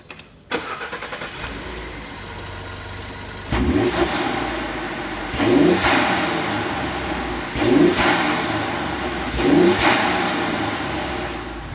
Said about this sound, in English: I definitely hear a little bit more of an intake sound, and in my opinion I can hear the turbo a little bit louder as well